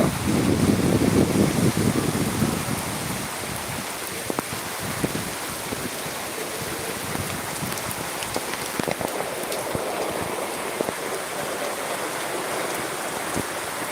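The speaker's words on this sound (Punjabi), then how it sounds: "ਬੜਾ ਬਹੁਤ ਜ਼ਿਆਦਾ ਫੁੱਲ بارش ਪੈ ਰਹੀ ਹੈ" Heavy rain falls in a village in Sri Muktsar Sahib district, Punjab, a dense, steady hiss of downpour on the ground and surfaces close around, with occasional louder drops and splashes and no talking.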